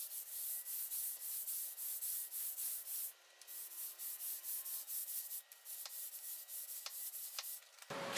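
Steady, close scrubbing of floor tile grout with a brush, continuous rhythmic back-and-forth rasping strokes with brief pauses, alone without talk.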